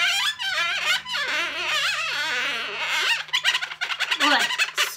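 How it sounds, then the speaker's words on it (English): Latex balloons squeak and rub loudly as they are handled and marked with a pen for balloon animal faces, the squeals running in quick wavering bursts, denser and choppier toward the end. "sorry about the squeaks"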